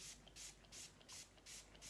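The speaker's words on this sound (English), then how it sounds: "So a bit spray." A spray bottle mists water onto a dog's matted fur during grooming: four quick, soft hissing spritzes in a steady rhythm, close and quiet.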